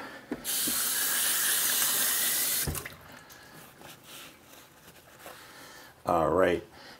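Zucchini rinsed under a running kitchen tap, a loud steady stream of splashing water for a few seconds that stops abruptly, followed by quieter handling sounds and a short burst of water again near the end.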